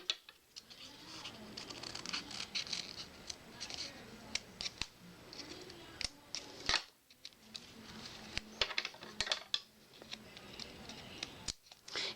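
Scissors snipping and trimming a paper card cutout for a Christmas thank-you card, a series of close, crisp cuts and paper rustles in irregular bursts, with faint background noise between them.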